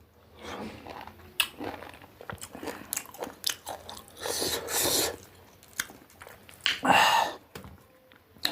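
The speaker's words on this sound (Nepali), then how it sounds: "ल सुरुमा चाहिँ कागती खानु पऱ्यो है त साथीहरू" Close, crisp biting and chewing of a lemon, a few irregular crunchy bites with wet mouth noises in between, no talking.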